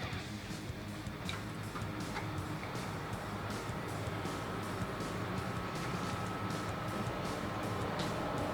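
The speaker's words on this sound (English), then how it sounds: "And the new cooler's fan is spinning." A salvaged HP CPU cooler fan spinning up as a desktop PC powers on makes a steady, low, even whir with faint regular ticking and no voices.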